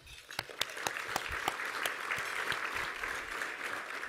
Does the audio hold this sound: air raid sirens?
no